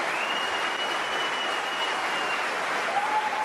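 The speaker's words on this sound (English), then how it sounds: "all the cheering on the other side" A crowd at the snooker World Championship venue applauds and cheers in a steady, dense wash of clapping that holds for several seconds, heard from a little distance with no voices above it.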